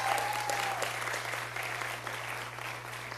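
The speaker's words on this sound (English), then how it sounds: "Let's give her a round of applause." Audience applause for Alexis, the performer's partner, during remarks at the performer's 100th Madison Square Garden performance: a steady roar of clapping from a large arena crowd that holds through the whole stretch.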